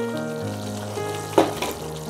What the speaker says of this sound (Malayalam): ഇനി നമുക്ക് ഇതിലേക്ക് ഒന്ന് പപ്പായ ഇട്ട് കൊടുക്കാം.